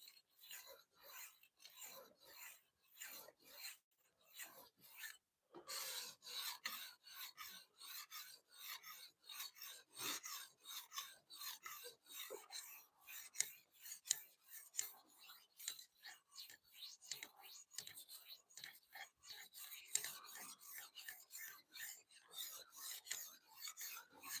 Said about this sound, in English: When I sharpen, right now I'm just trying to establish the edge.